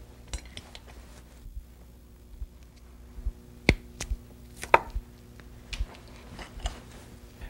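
A cable stripper cuts away peeled-back electrical cable sheathing, making a few sharp snips and clicks against quiet room tone, with small handling rustles between them and no talk.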